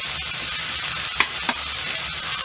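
Banana flower podimas with crumbled lentils gently frying in a pan, a steady soft sizzle with two brief clinks of a spoon stirring against the metal.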